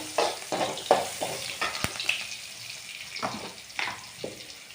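Onions are tossed and fried in a pan, giving soft sizzling broken by a series of short scraping and stirring strokes, fairly close and quiet, with no voices.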